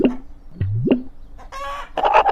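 Chickens clucking and squawking in a children's fairy tale, with a cartoonish voice-like warble at the start followed by a close burst of hen cackles.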